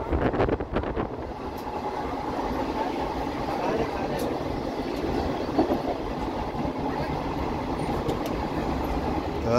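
Passenger train running on rails near Jejuri station in Maharashtra, a steady rolling rumble and rattle with faint rhythmic clicks, fairly close and continuous throughout.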